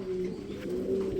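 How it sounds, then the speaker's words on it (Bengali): Danish pigeons at a large pigeon farm give a soft, low, close coo that holds for just over a second, with no voices. "ড্যানিশ কবুতর চলে আসলো প্রিয় বন্ধুরা আমার।"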